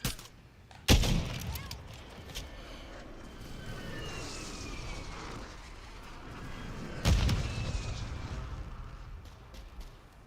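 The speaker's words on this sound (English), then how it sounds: "Friendly precision airstrike inbound." Precision airstrike explosions in Call of Duty Modern Warfare: two heavy, deep blasts several seconds apart, each followed by a rumbling tail, with scattered distant gunfire and battlefield ambience around them.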